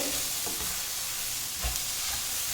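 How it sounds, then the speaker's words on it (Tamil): Steady sizzling and crackling of okra stir-frying in a hot pan, with occasional stirring scrapes, continuous and close up. "நல்ல சத்தான வெண்டைக்காய் பொரியல் வந்து சூப்பராக ரெடி ஆகிட்டுருக்கு."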